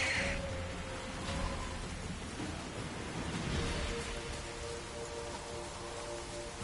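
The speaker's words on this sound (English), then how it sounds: "Looks like rain." Rain in The Witcher 3, a dense steady hiss of falling water with faint low rumbling beneath, even and continuous throughout.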